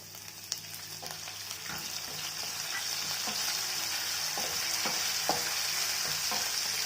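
Curry leaves frying in hot oil in a pan for Guntur gongura chutney, a steady bright sizzle with occasional stirring scrapes and small pops, close by.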